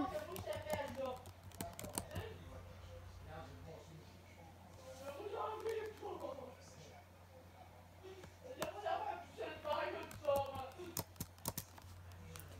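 Faint clicking of a computer keyboard as a short word is typed, with quiet talking over and between the soft key taps.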